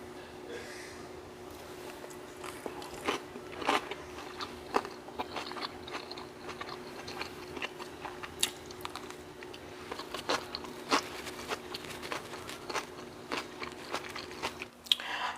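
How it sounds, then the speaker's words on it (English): Someone eats a homemade tofu meal up close, with soft, quiet chewing broken by frequent crisp bites and crunches at an irregular pace, and no talking. "Eating noises coming up."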